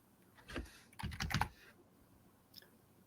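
Quiet keystrokes on a computer keyboard come in a few short, clustered bursts with gaps between them, followed by one last faint tap, and no voices.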